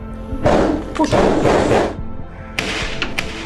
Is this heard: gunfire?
yes